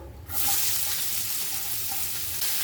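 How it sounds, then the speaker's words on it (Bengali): Chopped onion with bay leaf, cinnamon and cardamom frying in oil for Bengali paneer pulao, a loud steady sizzle that starts suddenly and runs on close up without voices. "খুব লালও হবে না আবার কাঁচাও থাকবে না সেরকম ভাজা করে দেবো"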